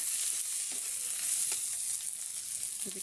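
Ginger, cumin and garlic paste sizzles in hot oil with a continuous, even hiss and faint occasional pops, heard close with no voices.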